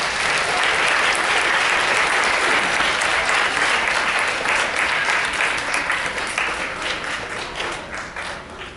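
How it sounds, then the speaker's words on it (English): A school assembly audience claps for a seventh-grade student in dense, sustained applause that stays strong and then slowly thins toward the end. "So I think we should have applause for that 7th grade student who's already thinking really deeply."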